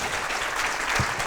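An audience at a remote viewing and extraterrestrials talk claps for a speaker in a dense, continuous burst of applause filling the room.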